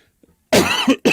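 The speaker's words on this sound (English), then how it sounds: "Excuse my cough." A short, sharp cough followed by a second quick cough, close and loud after a moment of near silence.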